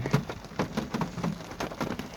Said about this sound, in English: It's been raining for like an hour.